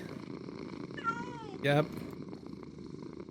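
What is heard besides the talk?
cat purring while sleeping on face, from a video game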